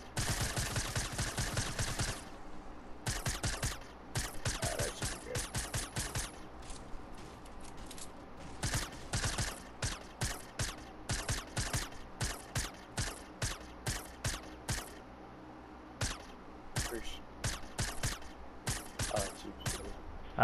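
SMG fire in Fortnite, rapid rattling bursts repeated many times with brief gaps, crisp and close, nearly free of talking.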